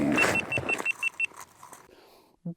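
A camera gives a quick run of about six sharp, evenly spaced electronic beeps as it powers itself off after sitting idle on a lake trout fishing outing. The beeps are close and clear, followed by quiet and a brief soft thump.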